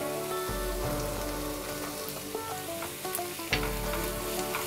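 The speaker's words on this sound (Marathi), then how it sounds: "आता ह्याच्यात आपण आल्या लसणाची पेस्ट घालायची आहे" Onions sizzle and fry in a pan as ginger-garlic paste goes in, a steady crackling hiss broken by a couple of louder splatters and stirring knocks, close and fairly loud with no talking.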